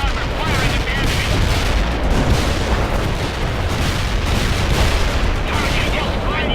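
Heavy armor tanks fire in World in Conflict amid a dense, continuous wash of booming cannon shots, explosions and battle noise, loud throughout with a radio-style voice over the din.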